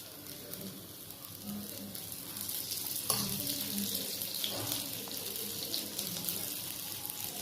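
Oil sizzles faintly around thin batter in a frying pan, a soft steady crackling hiss with a few light scrapes and clicks close by.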